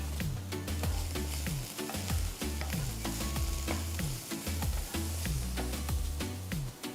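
Chopped capsicum fries with transparent onions for veg fried rice, loud steady sizzling over rhythmic scraping and knocking of a spoon against the pan, close up with no talk.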